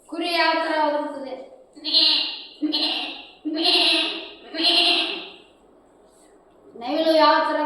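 A voice imitates a sheep bleating. Several wavering, nasal bleats are repeated close by at a moderate pace, with a short quiet gap before the last one.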